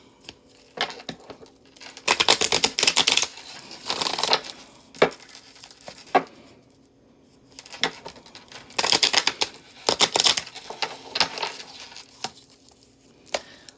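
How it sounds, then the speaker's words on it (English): Tarot cards shuffled by hand close up, bursts of crisp riffling and papery flicking in uneven clusters, with quiet gaps between them and no talking. "as I start to shuffle the cards around"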